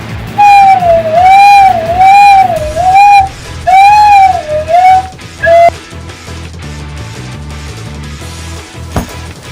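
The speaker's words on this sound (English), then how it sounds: "Makes a good slide whistle." A flute head joint played like a slide whistle sweeps loudly up and down in wavering pitch glides, several separate swoops, then a short final note followed by quieter background noise.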